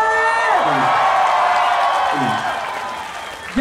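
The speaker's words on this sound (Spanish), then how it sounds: "Fuerte el aplauso, chavos," Concert audience clapping and cheering for a band, a loud continuous wash of applause with a few whoops and shouts rising above it.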